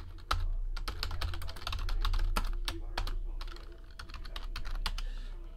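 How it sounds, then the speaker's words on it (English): Quick, irregular keystrokes rattle on a computer keyboard close by, continuous over a low steady hum, with no voices. "Let me type in the hits."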